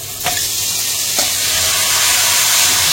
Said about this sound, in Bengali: তেল জিরে কাঁচামরিচ ভাজা হয়ে গেছে,